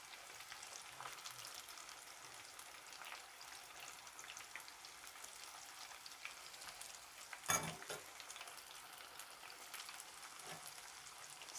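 Chicken nugget pieces for spicy KFC-style nuggets sizzle and crackle steadily in hot frying oil, a continuous light bubbling hiss, with one louder splattering burst partway through.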